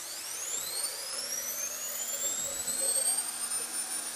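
The air spindle of a jig grinder starts up alone on a sine plate job, its thin whine sweeping steadily upward in pitch as it spins to speed, fairly quiet with faint metallic ticks beneath.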